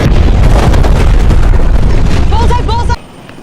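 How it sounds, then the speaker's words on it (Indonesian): A missile explosion as it strikes its target in the 2022 film Top Gun: Maverick: a loud, sustained, rumbling blast with roaring debris that drops off sharply near the end, and a brief tonal chirp before the cutoff. "Setelah sasaran meledak"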